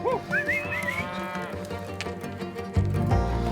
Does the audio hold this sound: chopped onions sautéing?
no